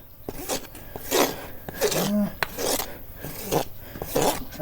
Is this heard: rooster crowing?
no